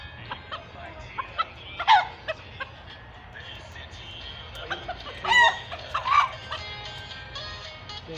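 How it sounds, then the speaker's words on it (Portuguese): A pet rooster on a rural farm clucks in short scattered bursts and crows a couple of times nearby, with soft outdoor background noise. "Esse galo é de estimação, a gente não mata ele."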